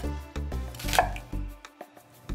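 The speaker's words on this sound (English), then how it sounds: "And then I'm gonna chop up an onion." A knife chops a yellow onion into small pieces for a caramelized onion bacon dip, with a quick series of close, crisp thuds on a cutting board that thin out into a few lighter taps.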